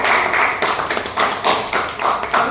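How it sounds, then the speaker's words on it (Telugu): Small audience clapping for a film team member at a press interview, rhythmic, fairly close claps that come in short bursts with brief dips between, no talking over them. "ముందు కొట్టండి క్లాప్స్"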